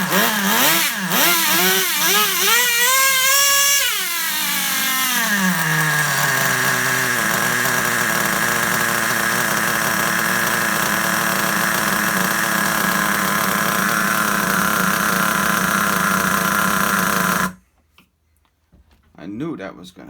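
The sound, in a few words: Traxxas Rustler nitro RC car engine running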